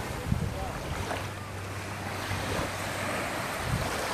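Surf on a beach in Miami, a continuous wash of waves mixed with wind buffeting the microphone, steady and fairly close.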